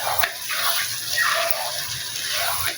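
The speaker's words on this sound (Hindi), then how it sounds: "भूनते वक्त मैं थोड़ा सा इसमें पानी भी शामिल कर दूंगी" Water is poured into chana dal masala frying in a pan, a steady gushing hiss with shifting splashy surges that runs throughout.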